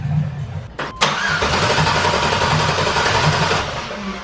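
A car engine cranks briefly and catches, then settles into a steady, loud, close idle with a slightly uneven rumble, on a vehicle with a suspected fuel-pump fault and a missing idle.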